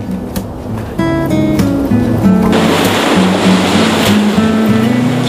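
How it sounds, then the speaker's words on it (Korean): Rough ocean waves crash and wash continuously at a winter harbor, a broad roar swelling louder midway, layered with sustained musical tones and no speech. "조용하고 고즈넉한 항구를 깨우는 건 다름 아닌 거친 파도 소리였는데요"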